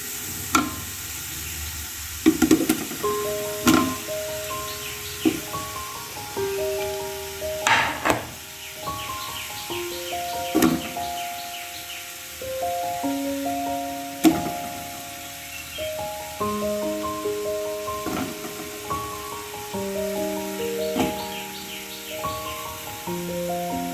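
Onions and tomatoes sautéing in a pan for biryani: a soft sizzle under sharp, irregular spoon clanks and scrapes, with tonal background music running throughout.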